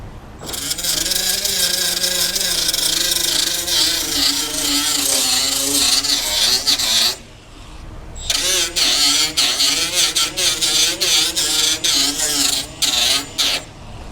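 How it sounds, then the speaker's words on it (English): Power grinder working Bondo body filler on a 1962 Chevy C10 pickup truck, a loud whining motor with rising and falling pitch as it bears on the surface, cutting out briefly around the middle before starting up again. "So now it's just a matter of doing some grinding. I'll grind this up and we'll come back."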